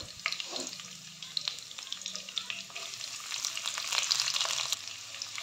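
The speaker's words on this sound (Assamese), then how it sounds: "কেৰাহীত তেল গৰম হোৱাৰ পাছত মই প্ৰথমতে কেৰাহীত দিছো এয়া গোটা জিৰা তাৰ পাছত পিয়াজখিনি দি দিছো" Whole cumin seeds and onions fry in hot oil in a wok for a vegetable curry, giving a steady close sizzle with scattered sharp crackles and stirring scrapes, with no talking.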